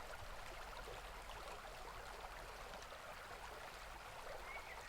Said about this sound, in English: I think it's just the running water